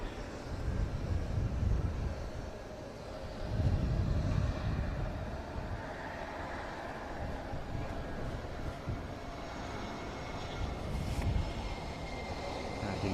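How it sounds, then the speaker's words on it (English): Two Saab Gripen E jets land in formation at an air show, a steady broad engine roar with swelling surges, loud and continuous throughout. "So in come the two Gripen E's for a formation landing."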